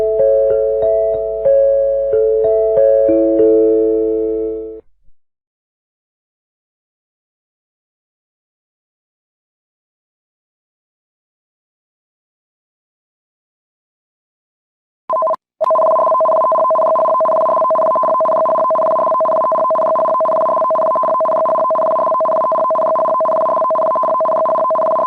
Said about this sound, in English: The emergency notification system has been activated.